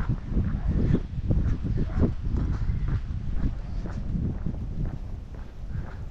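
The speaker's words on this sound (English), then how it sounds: "Windy." Steady wind rumbles and buffets across the microphone throughout, a continuous low roar with irregular thumps mixed in.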